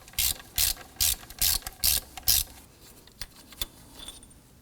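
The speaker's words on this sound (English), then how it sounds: "Going to use our 10mm socket and our extension here." A ratchet with a 10mm socket and extension works bolts on a 2003-2014 Volvo XC90 during serpentine belt replacement, six crisp clicking bursts in quick rhythm close up, then a few faint scattered clicks.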